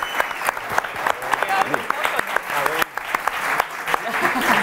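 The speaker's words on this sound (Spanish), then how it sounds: "Un aplauso para Cristian." A comedy show audience applauds a young performer named Cristian with loud, sustained clapping, while voices talk and cheer over the ovation throughout.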